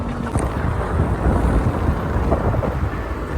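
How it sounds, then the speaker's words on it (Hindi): Cold wind sweeps through the forested Jai Valley near Bhaderwah, roaring and buffeting the microphone in a loud, continuous gusty rush with no voices. "बहुत ही ज़्यादा ठंडी हवा चल रही है इस वक्त यहाँ पे"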